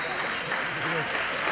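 An audience applauds the second-place New York City Women's Team Handball Club at a trophy presentation at the 2015 USA Open Team Handball Championships, with dense, continuous clapping throughout.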